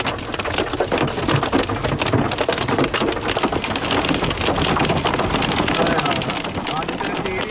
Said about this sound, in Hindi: वीडियो में सड़क पर 6 इंच तक के ओले पड़ते देखे जा सकते हैं